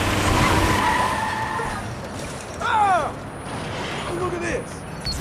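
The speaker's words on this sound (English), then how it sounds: "Hilarious automobile pile-ups ahoy." Car tires squeal and skid in Watch Dogs 2 traffic, with a long screech up front, a short rising burst midway and further scrapes, all over a steady rumble of game traffic and engines.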